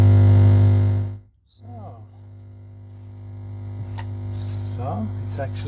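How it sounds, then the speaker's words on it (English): Dark, steady mains-like hum from a eurorack op-amp amplifier module (non-inverting build), a loud low drone that cuts out briefly then returns, with faint knob-turn clicks and sweeps over it. "So we have that sort of dark humming"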